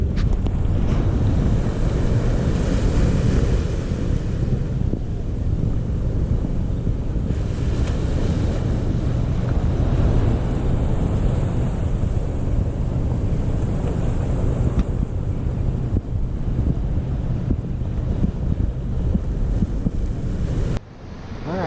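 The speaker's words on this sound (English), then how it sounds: "this is what the beach that we're staying at looks like this morning at sunrise" Steady wind buffets the microphone over rolling surf on a Maui beach at sunrise, a continuous close roar of waves and gusts with no voices.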